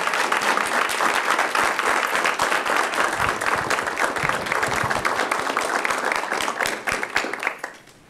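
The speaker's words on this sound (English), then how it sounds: "I think we should give him a round of applause" A room of attendees at a public policy school lecture applauds, with sustained, close clapping that stays loud and even for several seconds before tapering off at the end.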